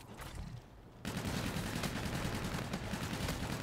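M4 rifle fire in Call of Duty: Infinite Warfare: after a brief quieter moment, a dense, continuous automatic burst of rapid shots runs to the end, loud and steady.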